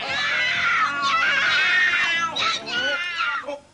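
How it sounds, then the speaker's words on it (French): Cats fighting, a loud, close burst of high screeching and yowling caterwauls that rise and fall continuously, ending in a sharp squeal. "les chats, vous pouvez pas aller vous battre ailleurs?"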